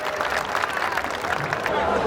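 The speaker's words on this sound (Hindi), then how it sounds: "एक बार ढंग से जोरदार तालियां बजा दो" Audience clapping at a Hindi kavi sammelan poetry recital, a steady, dense wash of applause filling the hall throughout, with faint crowd murmur mixed in.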